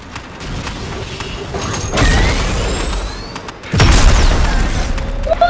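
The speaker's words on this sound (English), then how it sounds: "Love the sentry guns." Sentry guns fire in the video game Evolve: two heavy booming bursts stand out over a constant rumble of game noise and mechanical clatter.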